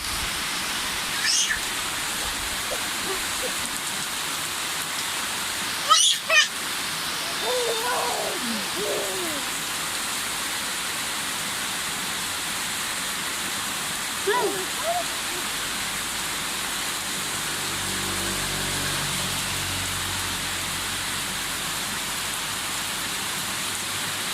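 Steady rain pours in a continuous hiss throughout, with a few brief voices and small thumps heard faintly beneath it.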